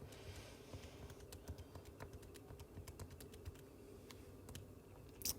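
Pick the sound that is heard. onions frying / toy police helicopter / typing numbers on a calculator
typing numbers on a calculator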